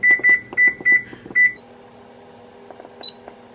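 An oven control panel sounds a run of five short, bright electronic beeps in quick succession while the preheat is set to 425, then a single lone beep follows after a pause over faint room tone.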